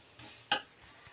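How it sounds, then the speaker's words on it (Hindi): Semolina dry-roasts in a pan over low heat, a faint soft rustle broken by one sharp scrape of a spoon stirring through the grains. "अब सूजी को हमें ड्राई होने तक भून लेना है"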